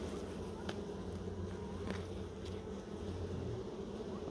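Honey bees buzz around an open hive during a honey harvest, a steady, close, droning hum with individual bees zipping past near the listener.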